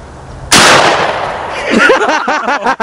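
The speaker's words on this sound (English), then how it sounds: "You just gotta aim, take your safety off, and pull the trigger." A single loud, close .243 rifle gunshot fired during a hunting outing, a sharp blast with a long decaying echo, followed by a voice speaking right afterward.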